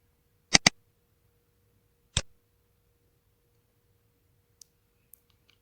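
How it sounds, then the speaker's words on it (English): Computer mouse clicks: a quick double-click, a single click a second and a half later, then two faint clicks, all crisp and close in a quiet room. "I just keep clicking, double click in order to zoom in this map"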